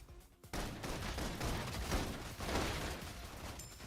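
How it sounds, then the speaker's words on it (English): Suppressing gunfire in the video game Love and Deepspace, rapid dense bursts of shots firing in waves, fairly faint and without speech. "Requesting full suppression gunfire."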